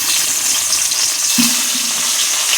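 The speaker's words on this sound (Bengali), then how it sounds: "এখন এক এক করে আমি মাছগুলো দিয়ে দেবো" Pieces of bhola fish coated in turmeric frying in oil: a loud, constant hiss close up, with a brief low thump partway through as a piece goes in.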